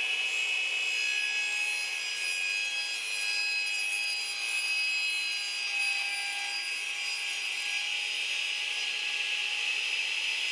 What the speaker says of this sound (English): I've tipped my radial arm saw to 45 degrees so I can make both cuts at the exact same time